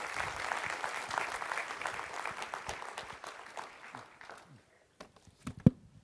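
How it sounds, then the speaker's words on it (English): An audience at a National Small Business Week event in Boca Raton applauds to welcome a speaker, a thick wash of clapping that thins out after about four seconds into a few scattered claps and a knock. "Let's give him another round of applause, please."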